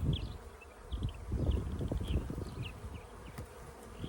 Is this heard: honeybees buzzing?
yes